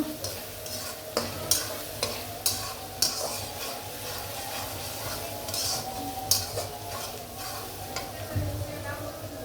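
Homemade spice paste sizzling in a pan for a Bengali-style chicken roast, with a spoon scraping and stirring in regular knocks against the metal over a steady fry hiss.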